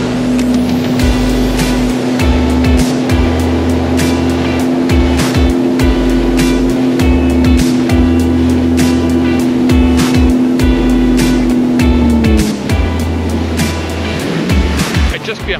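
A Sea-Doo personal watercraft runs over swell and current near the Erie Canal in Tonawanda, NY, with a loud, steady engine drone, slapping water and wind noise throughout, the pitch dropping near the end.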